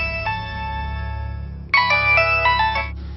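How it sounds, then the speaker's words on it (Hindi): A mobile phone ringtone plays loud and close: a melodic electronic tune that pauses briefly, then comes back brighter and fuller with no talking over it. "देखो तुम्हारा फोन बज रहा है।"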